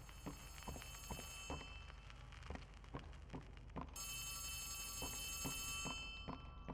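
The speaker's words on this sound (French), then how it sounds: "C'est en train de sonner le téléphone." A telephone rings repeatedly in the Poppy Playtime Chapter 3 video game, its bright, regular rings spaced evenly and moderately loud over faint background ambience, with no talk.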